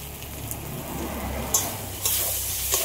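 Half-fried potatoes are stir-fried with spice paste, a continuous close sizzle punctuated by a few sharper scrapes of the spatula against the pan.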